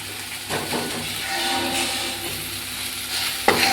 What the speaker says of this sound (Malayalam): നമുക്ക് നല്ലോണം ഇളക്കി കൊടുക്കാം